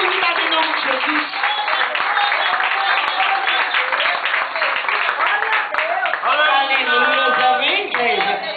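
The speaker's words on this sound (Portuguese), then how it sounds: "As palmas que louvam o nome do Senhor." Congregation at a Pentecostal church service clapping in praise, a dense steady run of handclaps with voices and singing mixed throughout, close and full.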